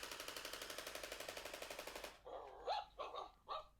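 A WowWee MINTiD Dog-E robot dog toy gives a few short, deep, electronic-sounding barks after a rapid mechanical rattling, each bark close and distinct with small gaps between.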